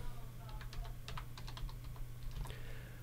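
Computer keyboard keys tapped in irregular quick bursts across a few seconds, close and moderately loud over a steady low electrical hum, while setting up a video converter installer.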